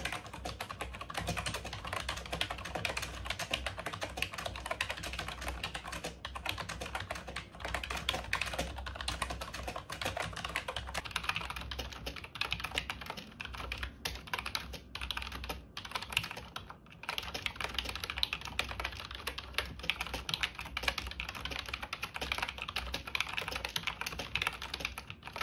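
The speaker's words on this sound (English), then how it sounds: "Now let's do a typing test." Brisk, continuous typing on a vintage IBM KB-8923 keyboard connected through a PS2 converter. The keystrokes are dense and clacky and run steadily for about 25 seconds, close up and without talk.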